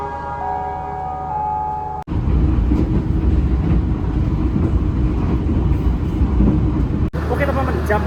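The Blambangan Express passenger train rolls straight through Babat station with a steady, loud roar and rumble heard from on board, following a brief tonal chime.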